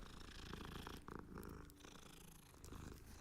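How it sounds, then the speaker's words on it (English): A cat purring as it is petted in the Hogwarts Legacy video game, a steady low rumble with game music and effects over it, fairly loud and continuous throughout. "Oh, he's petting the cat."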